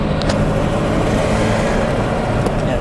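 The interior of a 1936 Chrysler Airflow Eight two-door coupe on the move, filled with a steady, loud low rumble of engine and road noise with no talk.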